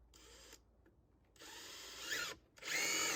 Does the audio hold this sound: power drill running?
yes